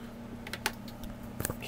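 A few quiet keystrokes on an iMac wireless keyboard: soft, scattered clicks and a short burst at the end over a low electrical hum.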